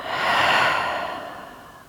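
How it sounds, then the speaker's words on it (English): A slow, breathy exhale during a yoga session swells softly and then fades away, close and alone with no talk. "And breathe out"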